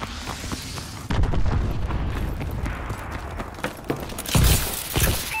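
Missile strike explosions in the futuristic shooter Call of Duty: Advanced Warfare, a loud run of heavy booms and rumbling blasts with crackling debris, one big impact standing out near the end.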